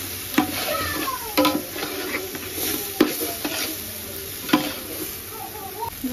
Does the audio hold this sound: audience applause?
no